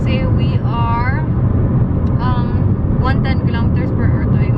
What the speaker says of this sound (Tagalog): Medyo maingay lang talaga yung sasakyan.